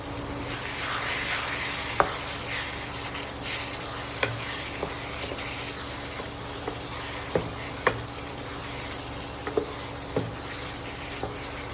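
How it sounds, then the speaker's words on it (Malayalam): Chopped garlic frying in oil for a hot and sweet lime and dates pickle makes a steady sizzle, with intermittent stirring scrapes and clicks of a utensil against the pan. "ഒരു 100 ഗ്രാം വെളുത്തുള്ളി ചെറുതായിട്ട് മുറിച്ച് വെച്ചിട്ടുണ്ട്, അതിട്ട് കൊടുക്കാം."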